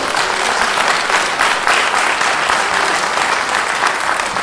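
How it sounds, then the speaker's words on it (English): Audience at a Windsor, New York town board meeting on fracking applauding, a dense, loud, continuous roar of clapping hands filling the room without pause. "all you people applauding"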